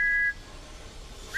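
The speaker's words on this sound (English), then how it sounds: "he heard Stanley's whistle from the track below" Steam locomotive whistle heard from a track below, a short faint high tone that cuts off and then briefly returns at the end over quiet background noise.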